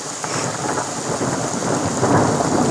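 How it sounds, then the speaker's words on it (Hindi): Steady heavy rain with a low, rolling rumble of thunder underneath during a mountain camping storm, continuous and fairly loud with no voices. "बादल के गरजने की आवाज़ आपको आ रही है"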